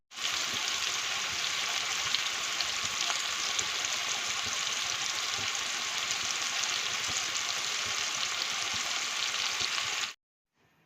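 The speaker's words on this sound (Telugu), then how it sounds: "సాల్ట్ వేస్తే మనకు ఆనియన్ ముక్కలైతే త్వరగా వేగుతాయండి" Onion pieces fry in oil with salt for a macaroni gongura curry, giving a loud, steady, close sizzle that runs unbroken before cutting off abruptly.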